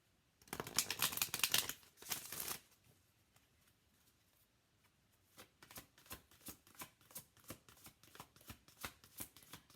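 Oracle cards are shuffled by hand up close, first a dense riffling burst, then a pause, then a run of crisp, regular card taps and slaps at a steady rhythm, with no talk over them.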